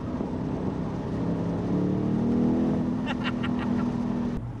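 A petrol car engine, in an automatic car, drones and rises steadily in pitch as it revs up, loud and close, with a brief higher whine near the end before cutting off.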